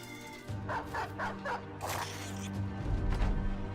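Dog barking in the X-COM Files video game: several short yips and barks close together, loud over game sounds and background music, with a speaking voice in the clip.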